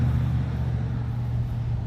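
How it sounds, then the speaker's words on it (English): Steady low road rumble and engine drone inside a moving Ram Promaster camper van conversion, loud and continuous throughout. "Sorry about the road noise."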